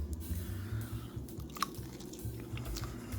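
Crunchy chewing and biting on grapefruit pepper chicken wings, close and steady with irregular bites over a low mouth rumble, no talking.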